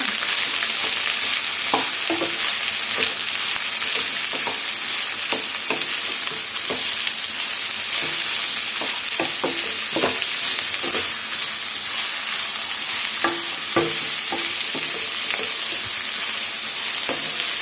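Onions fry in oil for onion chutney with a constant bright sizzle, while a spatula gives scattered soft scrapes and taps as they are stirred, close and with no voices.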